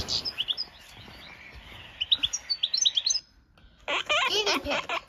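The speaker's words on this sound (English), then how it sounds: "European goldfinch." European goldfinch song: rapid twittering chirps and bright trills in quick bursts, pausing briefly before a denser, louder run of liquid warbling notes, close and clear.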